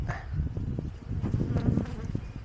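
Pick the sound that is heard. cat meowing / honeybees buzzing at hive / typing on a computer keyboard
honeybees buzzing at hive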